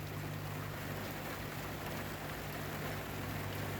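Rain falls in a steady, even hiss outdoors beside running water, with a faint constant hum underneath and no voices.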